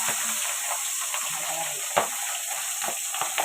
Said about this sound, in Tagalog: Init na yung ating kawali. Sasalang na natin yung isda.